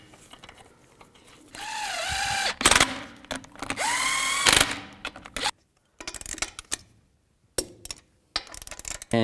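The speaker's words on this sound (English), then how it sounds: "Take the wheel, put it on. Put the lug nuts on." A power tool spins lug nuts onto a wheel of a Ford Police Interceptor Utility in a garage, giving a couple of loud whirring, ratcheting bursts, then quieter intermittent clicks and clunks nearby.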